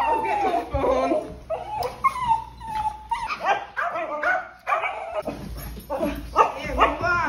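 A dog barks, yips and whimpers repeatedly at close range amid the commotion of moving house, the excited cries coming in uneven bursts throughout.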